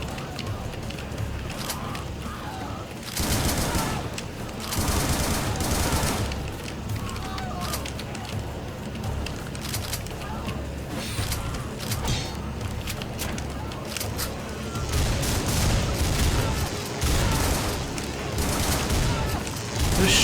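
Shotgun blasts from enemies in the video game Butcher crack out in rapid bursts over a dense, continuous wash of game noise, with heavier volleys near the start and again toward the end.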